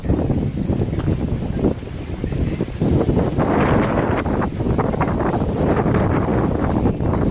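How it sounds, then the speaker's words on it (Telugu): Breeze blowing across hills during the rainy season, a continuous rushing buffet of wind against the microphone with rustling, loud and unbroken. "చక్కటి గాలి"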